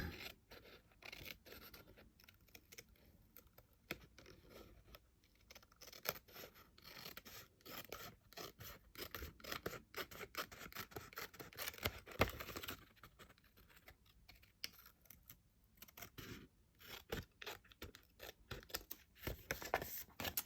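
Paper snips trim paper around an envelope in a card-making craft, quiet close snipping and scraping cuts coming in irregular bursts with soft rustling between them.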